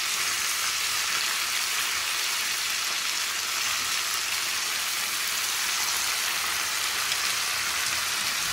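Fresh, tender brinjals fry with onions in an oiled pan, making a dense, even, crackling sizzle like steady rain that runs loud and unbroken for the whole stretch without any talking.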